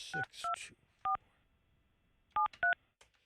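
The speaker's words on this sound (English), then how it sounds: "All right, I'm calling Allison, Fester's wife." A phone number is tapped out on a telephone keypad: five short, clean DTMF beeps in an uneven sequence, two quick, one alone, then two more, in a quiet room.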